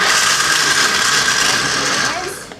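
A kitchen blender runs continuously at full power with a dense, whirring motor roar that stays loud and steady, easing off only near the end.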